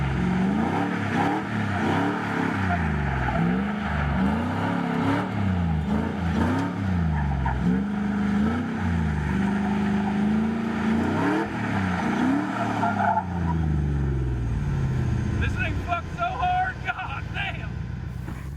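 A Chevy Colorado rally truck's engine revs up and down repeatedly as it drives hard on gravel, loud and close, with crunchy rattling at the end.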